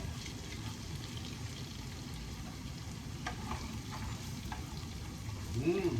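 A pan of monggo mung bean dish fries quietly with a soft, continuous sizzle and light stirring scrapes, faint and close, ending with a brief clatter.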